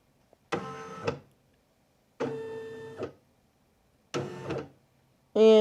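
An embroidery machine traces a design's outline on a rag, making three separate motor runs of about a second each with harmonic whine, then a final higher whir starting at the end, close and clear with no talk.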